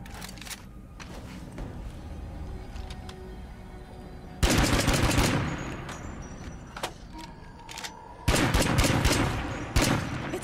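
Gunfire comes from a gun mounted on a pickup truck in the video game State of Decay 2. Loud bursts of rapid shots start mid-clip and return near the end. Fainter earlier pops and clicks fill the quieter stretch, and no one speaks.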